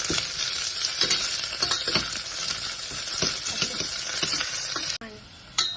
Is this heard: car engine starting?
no